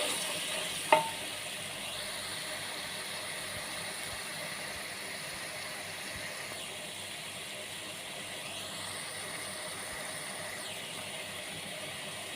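Tomato stew with beef, seasoned with Maggi, white and black pepper and salt, sizzles steadily in a pot while it is stirred, with one sharp utensil knock near the start and a continuous frying hiss throughout.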